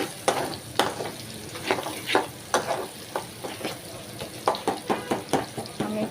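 Noodles with two eggs and a packet of Maggi masala stir-fried in a pan, rhythmic scraping strokes repeating roughly every half second over a steady sizzle, close and clear, with no voices.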